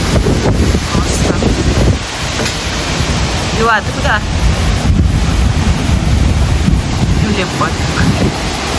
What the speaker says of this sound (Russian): Я думаю, даже так слышно, какой ветер.